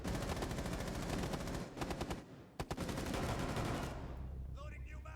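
Rapid pistol fire rattles in bursts during a Rainbow Six Siege match on the Villa map, loud and close with repeated sharp shots and short pauses, while a voice talks over the action.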